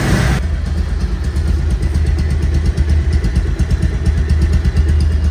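Bajaj Pulsar motorcycle engine, a 2024 model, running steadily at idle with a smooth, even, rapid beat, close and loud throughout with no talk.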